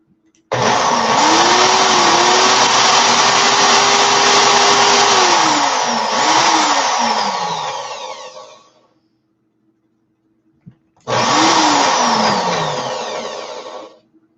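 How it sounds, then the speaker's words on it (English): Power drill spinning in reverse to loosen a five-core staggered fused Clapton coil wire: a loud, steady motor whine runs for about eight seconds, winding down, then after a short pause a second burst starts and fades out. "Now I'm going to hold this wire, put the drill in reverse, and loosen this Clapton."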